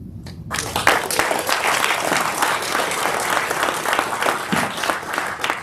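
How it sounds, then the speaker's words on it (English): Loud, dense applause from a town hall audience fills the room after a brief quiet start, sustained and steady throughout with no talk. "Give them some applause also"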